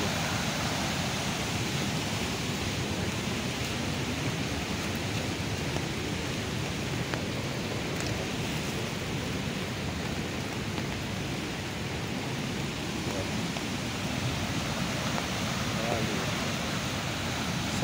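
The Canhoto river at Canhotinho, Pernambuco, runs high after heavy rain, a steady, loud broadband roar of rushing water that holds unbroken throughout with no distinct voices.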